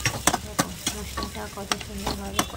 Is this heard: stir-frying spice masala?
yes